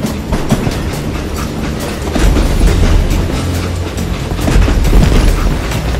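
A moving train in the Call of Juarez Gunslinger video game rumbles loudly and steadily, with a rhythmic clickety-clack of wheels over rail joints and heavy low thumps, up close with no voices.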